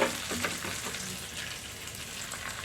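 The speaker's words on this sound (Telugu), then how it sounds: "ముందు ఉల్లిపాయలు వేసి స్టవ్ ఆఫ్ చేసేద్దాం" Onions frying in a kadai, a steady soft sizzle with hissing crackle throughout, fairly faint and without any voices.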